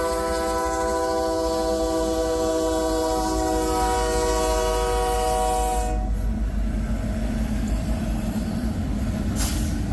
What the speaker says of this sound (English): I hear a horn in the distance over there too.